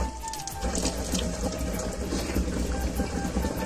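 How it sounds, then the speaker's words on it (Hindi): Water pouring steadily into a container that needs holding to stay balanced, a continuous close splashing rush with no talking. "तो अब ये पानी थोड़ी देर के अंदर भरा जाएगा"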